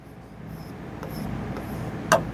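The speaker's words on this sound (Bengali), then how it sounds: "ধরেন আমি লিখলাম" Pen writing a name in capital letters on an OMR exam answer sheet, a continuous soft close scratching with a brief sharper tick near the end, no talking.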